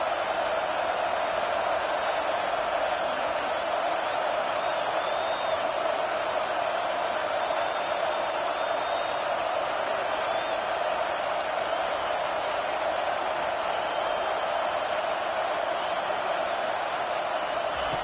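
A football stadium crowd at a Tennessee versus Clemson game roars in a steady, dense wash of cheering and noise, sustained evenly with no breaks from start to finish.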